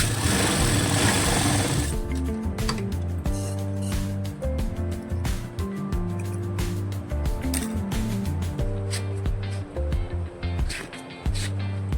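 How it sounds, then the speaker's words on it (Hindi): A sewing machine runs close and loud, stitching a palazzo side seam in steady bursts with short pauses, starting after a brief noisy lead-in. "यहाँ से हमें एक सिलाई लगा देनी है।"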